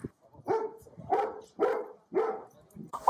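Big dog barking in a steady series of about five deep, loud barks evenly spaced, close by, outdoors along a pathway.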